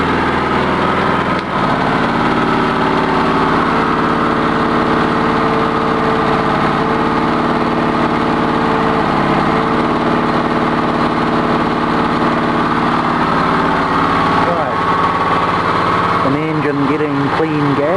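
A small engine running on charcoal gasifier gas idles loudly and steadily throughout, a constant close drone with a brief dip near the end.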